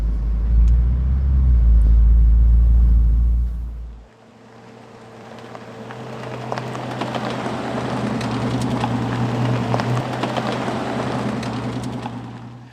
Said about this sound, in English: Welcome to the new car you saw coming in, Koufax's new vehicle, our Bentley GTC Speed